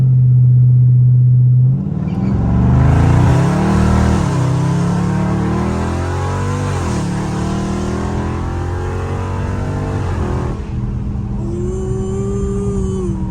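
A Dodge Charger Scat Pack idles loudly up close, then launches on bald tires, its V8 revving hard through rising and falling gear changes before settling back to a lower drone.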